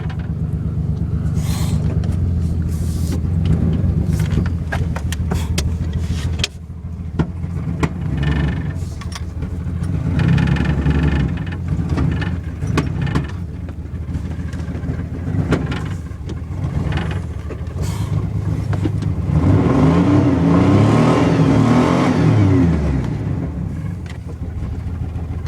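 Pickup truck engine idling and revving up close, a steady loud rumble with repeated throttle surges, a brief drop partway through, then a stronger rev toward the end.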